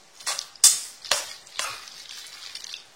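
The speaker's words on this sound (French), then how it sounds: "je vais mélanger tout ça pour former un mélange homogène d'une salade de pâtes" A pasta salad with corn and grated cheese is stirred in a bowl, making soft, close scraping and clinking spoon strokes in a few quick bursts. One stroke is sharper than the rest, and the bursts are separated by short pauses.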